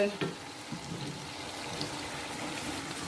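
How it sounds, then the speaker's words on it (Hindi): Chicken stir-fried over high flame in a pot for chicken pulao, with a soft continuous sizzle and faint stirring scrapes at moderate distance. "और इसकी हम करेंगे अच्छे तरीके से भुनाई।"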